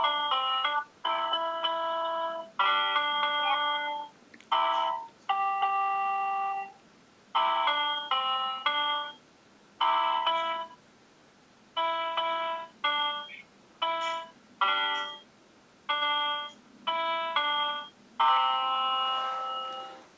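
A young girl picks out 'Mary Had A Little Lamb' on an electronic keyboard after a single lesson, playing clean, separate tones in a slow, slightly halting rhythm with short pauses between phrases and no talking.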